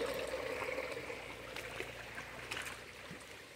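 Water from a natural spring on a farm flows and trickles steadily, a broad gentle rush with soft splashing close by, continuous and fairly quiet with no talk over it.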